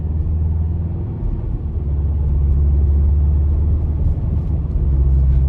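A 2025 Toyota Tacoma TRD Off-Road pickup pulls away from a stop in normal drive mode, its engine a deep, steady rumble heard from inside the cab that builds gently as it accelerates.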